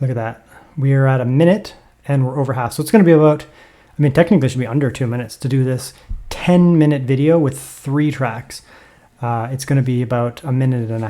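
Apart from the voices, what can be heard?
No everyday noise stands out behind the speech.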